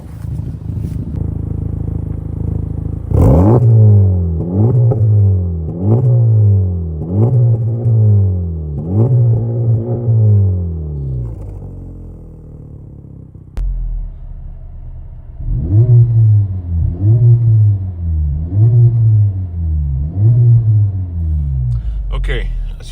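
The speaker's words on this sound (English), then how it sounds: "let me go ahead and do a couple revs real quick for you guys" The engine of a Honda Civic Type R with a slightly modified stock exhaust is revved repeatedly while the car stands still, giving two sets of about five sharp, evenly spaced revs with a short idle pause between them, loud and close.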